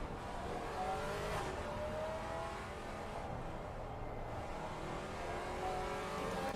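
BMW GT4 race cars at Oulton Park in Assetto Corsa Competizione, a racing video game, give off a faint continuous engine drone that rises and falls with revving through corners.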